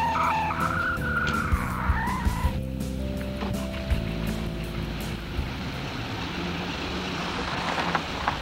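Tires squeal loudly as a departing wedding honeymoon car pulls away, the screech rising early and then dissolving into steady engine and road roar with crowd noise around it.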